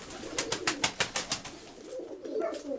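A pigeon coos in a loft: a close, rhythmic series of soft pulsing notes, then a longer drawn-out coo, heard alone.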